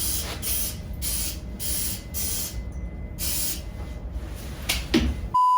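Several short hissing bursts from an aerosol Lysol disinfectant spray can, evenly spaced and close, with a faint click at the end.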